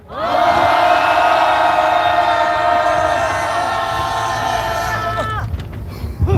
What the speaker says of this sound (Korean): 힘차게 함성 한번 드리겠습니다. 함성 시작!